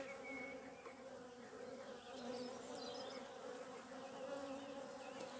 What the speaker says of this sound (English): So now the bees are well calmed down there.